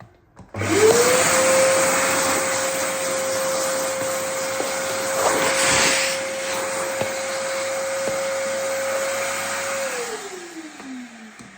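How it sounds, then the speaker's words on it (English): A vacuum cleaner starts up with a whining hum, runs steadily at close range for several seconds, then winds down as it switches off. "I'm going to vacuum it a little bit here and then continue."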